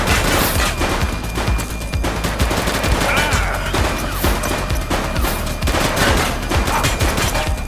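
Heavy, continuous gunfire from a police shootout during a bank robbery in the game The Precinct on PS5, with dense, loud overlapping bursts and rapid shots throughout and occasional crashes mixed in.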